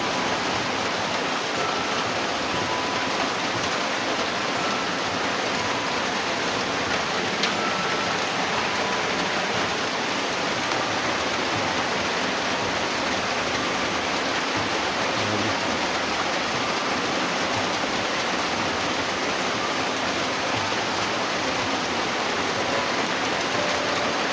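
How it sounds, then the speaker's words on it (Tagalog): Heavy rain pours in a dense, unbroken hiss that stays at an even, fairly loud level throughout, with no pauses and no voices. "Oh, malakas talaga ang ulan, no?"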